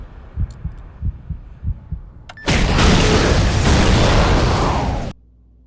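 A bombing explosion from a Battlestar Galactica episode: a few soft low thumps, then a sudden loud, roaring blast of noise that holds for about three seconds before cutting off abruptly.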